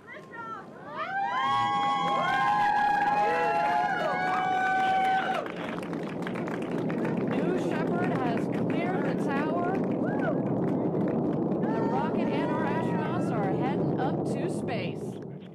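Blue Origin rocket liftoff, a loud continuous roar spreading across the whole stretch, mixed with a cheering crowd, whistles and voices nearby.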